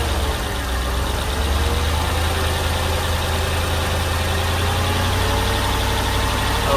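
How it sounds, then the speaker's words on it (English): A Mercedes engine held steady at about 1500 RPM while the AC system is charged with refrigerant gives off a continuous, even mechanical drone with a low hum and no talk over it. "So now we're gonna go hold the throttle at about 1500 RPM again,"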